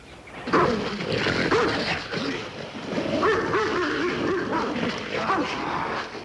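A German shepherd Army dog barks and growls fiercely, close and loud, in a continuous run of snarling barks and yelps lasting several seconds.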